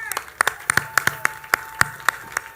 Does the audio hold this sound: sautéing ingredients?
no